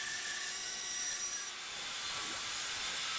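Bandsaw resawing a 2x6 wood board, a steady, bright rasping cut under a constant machine drone, fairly close and uninterrupted.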